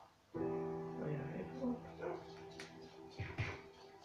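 A Minecraft dog whimpers and yips in short bursts near a steady low in-game hum, moderately quiet.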